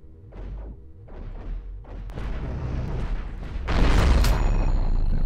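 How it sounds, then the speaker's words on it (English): A big cannon mounted on a spaceship fires in the space game Cosmoteer, a run of deep booming thuds in slow succession, building into a louder, denser blast toward the end. "That big ass cannon I put on there"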